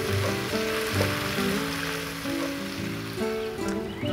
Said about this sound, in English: we're gonna let this simmer and reduce for a few minutes